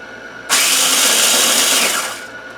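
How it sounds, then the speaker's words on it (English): A kitchen grinder pulses Doritos into small crumbs, one loud whirring burst of about a second and a half starting abruptly and winding down, close by with no talk. "We are putting them in this grinder thing, so Yeah. they turn into very small pieces of the Dorito,"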